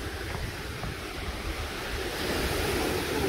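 Sea waves wash continuously onto a beach in Estonia, a steady broad surf roar mixed with wind buffeting the microphone, growing slightly louder toward the end.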